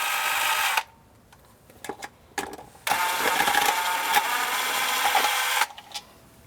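Screws backed out of an RV battery monitor panel with a powered driver, two long steady whirring bursts with brief clicks and handling noise between them, close and fairly loud.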